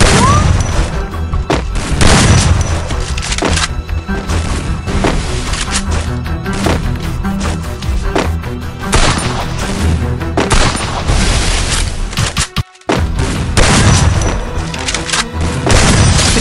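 Gunfire in the Free Fire video game: loud, dense bursts of shots and booming impacts pound almost without pause, with one brief drop to silence near the end.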